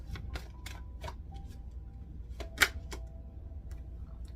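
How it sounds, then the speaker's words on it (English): Soft, scattered tarot card flicks and taps as the deck is shuffled in a quiet room, irregular and close, one sharper snap near the middle. "I'll shuffle."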